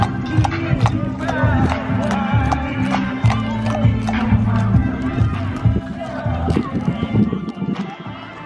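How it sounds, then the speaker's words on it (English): Horse hooves clip-clop steadily on pavement at a Mardi Gras parade in Monroe, Louisiana, close and continuous under crowd chatter, with people talking nearby throughout. "Y'all check this horse out right here."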